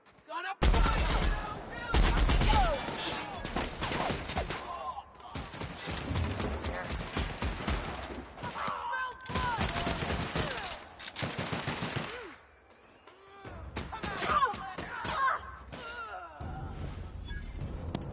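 Gunfire from The Outer Worlds video game: long stretches of rapid automatic shots and overlapping bursts, loud and close, broken by short pauses, with in-game voices speaking between volleys.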